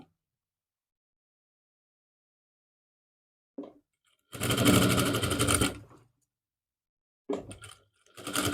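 A sewing machine stitches along the neckline of a salwar suit in a short burst of just over a second, close and loud, with brief handling clicks before it and a restart near the end.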